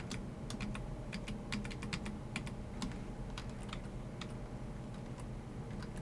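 Computer keyboard typing while copying and pasting: scattered crisp key clicks and short taps in irregular clusters over a low steady room hum, close and fairly quiet, with no talking.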